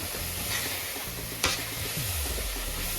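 A spoon stirs lavariya filling in a hot pan, with a continuous gentle sizzle and scraping, one sharp clink midway, and no talking.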